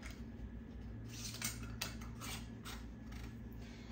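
Faint clinks and scrapes of a canning lid and ring being fitted onto a pickle jar after the rim is wiped, a few soft metallic taps and twists over a steady low hum.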